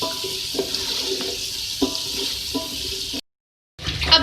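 An aloo matar pulao mixture with whole green chillies sizzles and bubbles in a cooking pot, a steady close hiss with soft stirring clicks that briefly cuts out before resuming.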